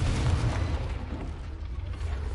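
A Confringo fire spell explodes in Hogwarts Legacy, a dense, rumbling blast with a roaring low-end burst that stays loud and noisy throughout the moment.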